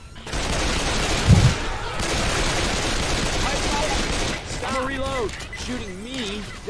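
Continuous gunfire from Left 4 Dead 2 fills the stretch as a dense, steady crackle of rapid shots, with a heavier hit early on and a voice talking over the tail end.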